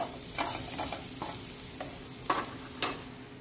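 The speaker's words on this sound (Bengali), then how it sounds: "আর এই বাটারের মধ্যে আমার কাছে চপড গার্লিকগুলো ছিল সেটা কিন্তু দিয়ে দেবো। এবার গার্লিকগুলোকে এক এক করে নেড়ে নেবো ভালো করে।" Chopped garlic fries in butter in a pan, stirred with repeated scraping strokes over a soft, continuous sizzle, close and clear with no talking.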